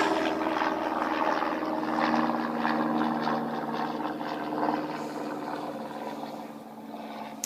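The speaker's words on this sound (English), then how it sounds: "Yeah, the wee little trainers from the Aero Club there." Small Aero Club trainer aircraft drone steadily at an airport, a continuous propeller hum that fades slightly over several seconds amid gusty wind, alone without talk.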